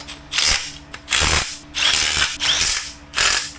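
Turbo manifold studs on a D16Z6 engine are tightened with a ratcheting tool: five loud, close clicking ratchet bursts in an even rhythm, separated by short pauses.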